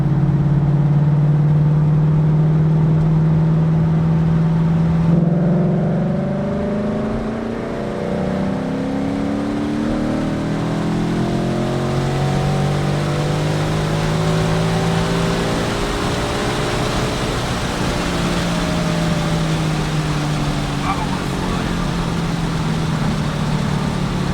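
2023 Ford Mustang on an E85 tune revving hard through third gear from about 2500 to 7200 rpm, a loud close engine note rising steadily over the whole run with no talking.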